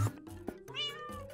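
A cartoon cat in a Minecraft animation lets out a single drawn-out meow, clear and close, with brief rustles before it.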